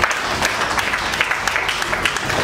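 A church congregation keeps clapping in praise. The crowd's applause is thick and continuous, close and fairly loud, with no speech over it.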